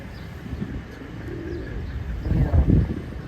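Nearby male pigeon or dove in Maui, following females, lets out a few low, throaty coos that swell toward the end against quiet outdoor ambience.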